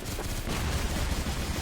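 Rapid bursts of gunfire fill a shooter video game round, loud and dense throughout with no pauses, like sustained automatic fire mixed with game noise.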